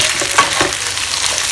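Minced meat and pasta frying in a pan, a loud, close sizzle with a stirring scrape mixed in, brief and continuous, no voices.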